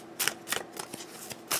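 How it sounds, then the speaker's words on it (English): A deck of tarot cards is shuffled in a quick series of crisp riffling bursts, about five sharp flutters close to the microphone, with no voices. "shuffle the cards"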